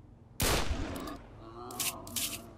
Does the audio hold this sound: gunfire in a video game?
yes